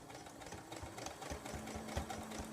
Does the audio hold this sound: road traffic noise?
no